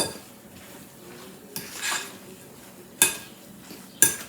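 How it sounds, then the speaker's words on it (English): A spoon works through a chunky meatloaf mixture in a bowl: soft scraping and squelching, punctuated by a few sharp clinks against the bowl, close and fairly quiet. "Give that a good stir."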